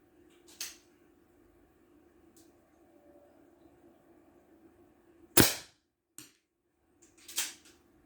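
Airsoft pistol shots from an Umarex HDS68 or Artemis CP2 fired indoors in an apartment: three sharp, snappy cracks spaced a second or two apart, the middle one loudest, over a quiet room hum.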